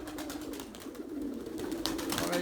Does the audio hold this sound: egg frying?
no